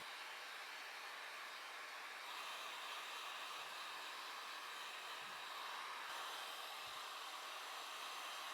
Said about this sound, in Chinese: 我们就用这个热风枪把它吹一下